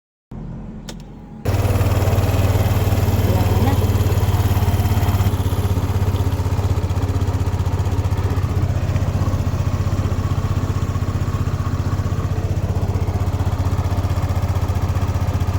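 A Racing 150 motorcycle engine fires up after a short silence and runs steadily, close by and loud, with a dense rattling, clattering idle throughout.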